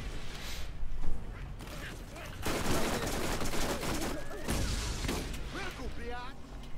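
Gunfire in the co-op shooter game Borderlands, bursts of shots and impacts in a busy firefight, moderately loud, with people talking over the action.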